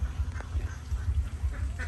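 A flock of ducks quacks repeatedly near their water area in a backyard duck-raising plot, a steady overlapping chorus of low, nasal calls close by.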